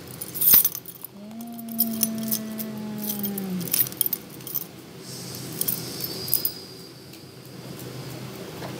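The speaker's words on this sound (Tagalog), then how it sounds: "Ito susi, dito." Keys jangle and clink near the microphone around a Jordan belt bag, with a sharp metallic jingle at the start and lighter rattling afterward, over a low steady background hum, with no talking.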